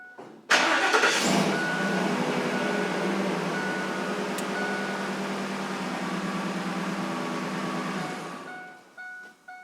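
A car engine cranks and starts after catalytic converter repair work, then settles into a steady, fairly loud idle hum that runs for about eight seconds before cutting off, with no talking.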